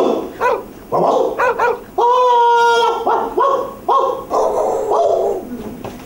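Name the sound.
person imitating a barking dog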